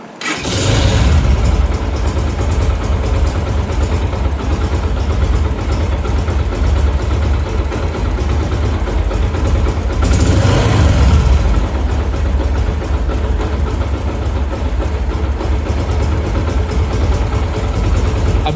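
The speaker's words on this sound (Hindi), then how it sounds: "अभी बाइक को स्टार्ट करके देखते हैं।" A Yamaha YBR125 motorcycle with a butterfly carburetor starts up and settles into a loud, steady close-range idle, with a brief rise in engine revs partway through.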